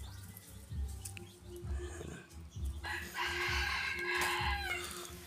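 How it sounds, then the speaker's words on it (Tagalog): A chicken close by gives low clucks, then breaks into a loud, drawn-out crow, with scattered farmyard rustling in the background. "Mayroong manok dito."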